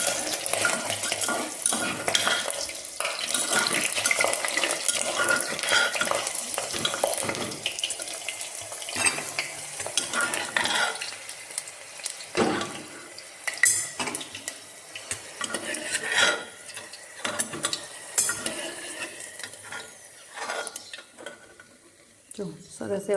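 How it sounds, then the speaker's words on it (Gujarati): Red and green chillies fry in hot oil with a continuous crackling sizzle, broken by scraping and stirring in the pan and a few sharp metallic clinks of utensils. "સરસ એવા લાલ ને ગ્રીન ને બધી પ્રકારના મરચાં છે, તળાઈ ગયા છે આપણા"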